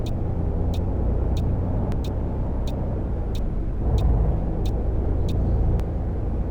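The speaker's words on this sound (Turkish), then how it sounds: "Çift katlı otobüs döndürüyorum ben burada." A Setra 531 DT double-decker coach turning in Fernbus Simulator: a steady, loud engine rumble runs throughout, with a regular ticking indicator clicking over it.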